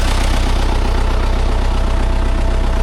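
An MTZ tractor engine runs loud and close during heavy winter ploughing of wet fields, a steady rhythmic diesel throb with knocking pulses and no speech.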